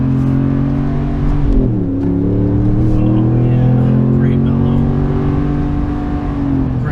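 A 2017 RAM Sport with a 5.7L V8 drones loudly and steadily from inside the cabin, its engine note dipping briefly then climbing as it pulls along, with someone talking over it.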